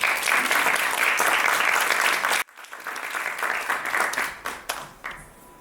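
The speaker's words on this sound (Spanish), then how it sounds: "Un aplauso para Carla Sofía Peña Vallejo." An audience applauds at a talk on female self-portraiture, dense sustained clapping that cuts off sharply, then scattered claps and a few voices as it fades out.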